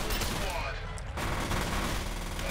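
Shotgun gunfire in F.E.A.R., a burst of loud close gun blasts amid dense combat noise, continuous over the short span with a voice partly underneath.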